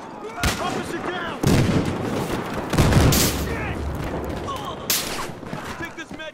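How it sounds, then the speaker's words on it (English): Explosions and gunfire in the police-versus-criminals shooter Battlefield Hardline: heavy booms and dense rattling shots keep coming in bursts over six seconds, with game voices calling out over the din. "tossing grenade!"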